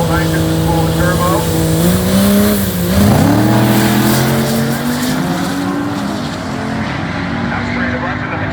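A turbocharged drag race car at a drag strip during Dragweek, its engine holding a loud droning tone as the turbo spools, then pitching up sharply, close and overlapping with a commentator talking.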